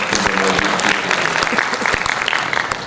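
Loud audience applause at a Maharashtra mushaira in Alibag, a dense sustained patter of many hands with a few sharper individual claps, close and continuous throughout.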